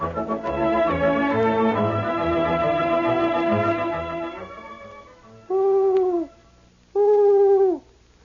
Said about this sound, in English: the owl is a wise old bird